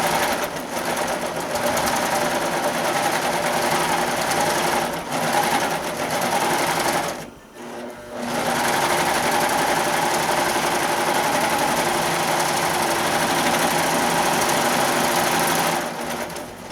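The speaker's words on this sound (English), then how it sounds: "we're going to be stitching along one of the short ends" An embroidery sewing machine stitching fabric for an in-the-hoop curling iron case runs with a loud, continuous rapid whirring buzz, pausing briefly partway before resuming.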